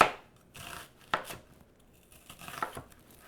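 A knife slicing an onion diagonally into half moons on a cutting board, a few separate crisp cuts with short pauses between them, close and fairly quiet.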